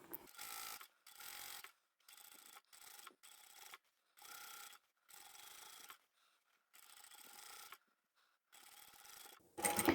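A sewing machine stitches continuously around a lined drawstring pouch, its motor whirring in repeated bursts of a second or so, separated by short pauses, close and moderately quiet with no talk.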